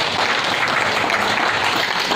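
An audience of early-childhood teachers claps together, a brief, dense, steady burst of applause filling the room.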